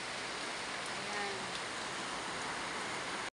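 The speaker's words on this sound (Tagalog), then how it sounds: "Tuloy-tuloy pa ng ulan." Steady, continuous rain hisses as a dense, even wash of noise throughout, loud and unbroken until it cuts off abruptly at the end.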